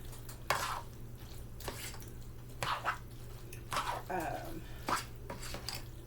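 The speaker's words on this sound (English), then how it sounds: "So you want to give that a good stir, stirring that butter, stirring that cream cheese" Butter and cream cheese being stirred in a pot, with soft spoon scrapes and clinks against the metal recurring every second or so, close and quiet.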